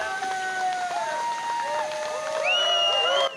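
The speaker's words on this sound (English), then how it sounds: "Cheer on the senator as she pulls up in the bus" Crowd cheers and whoops as a senator's bus pulls up in Maine, excited voices rising and overlapping, with a shrill high shout near the end.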